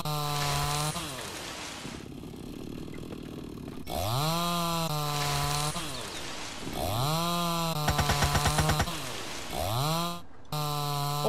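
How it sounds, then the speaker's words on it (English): Chainsaw in the survival game Mist Survival, clearing forest: repeated loud bursts of revving and idling engine with rising and falling pitch, several cuts in a row with brief pauses between. "We do have a chainsaw. Ain't really so great this chainsaw, but it should last a little bit."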